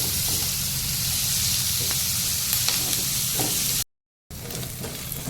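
Onions and cashews fry in oil with a steady, dense sizzle and occasional stirring clicks, broken by a brief silent gap before the frying resumes.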